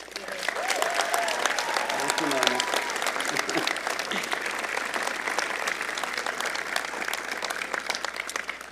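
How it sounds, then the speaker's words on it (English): A convocation ceremony audience claps steadily and densely for nearly nine seconds, a sustained wash of many hands in a large hall. A voice briefly speaks over it near the start. "how about a round of applause?"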